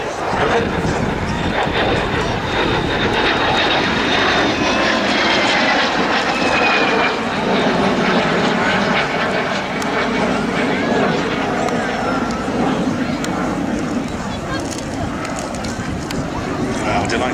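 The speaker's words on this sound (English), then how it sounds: "look at that steep dive coming in, winding up the power without putting any stress on the aircraft" A de Havilland Vampire jet dives past at an air display, its engine a steady loud roar with a whining tone, heard from a distance over a full stretch with an announcer talking throughout.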